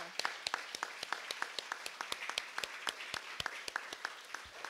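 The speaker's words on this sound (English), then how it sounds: "Let's give the Serendipity Choir a big round of applause." A church congregation at a Sunday service applauds a choir, a small crowd's light, scattered handclaps going steadily at moderate loudness with no talk over it.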